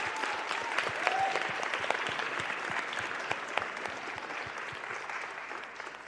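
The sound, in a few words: audience applause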